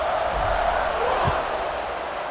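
Steady crowd roar from a stadium in the EA Sports College Football 26 video game, heard during a kickoff as a continuous, dense wash of cheering with a couple of brief low thumps, no speech.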